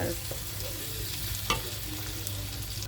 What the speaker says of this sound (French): La viande hachée, on va l'écraser.